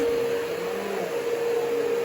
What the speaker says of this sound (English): We're going to vacuum this way.